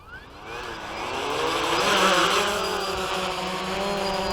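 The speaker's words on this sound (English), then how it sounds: "Go ahead and fire up the motors." WLToys V303 Seeker quadcopter motors spinning up from idle into a loud, steady high whir that swells and holds close by.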